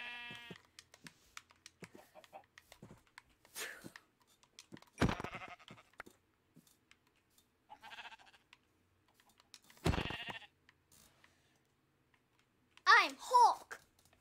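Minecraft sheep give several short, scattered bleats amid quiet game sounds and keyboard clicks, with someone talking between the cries.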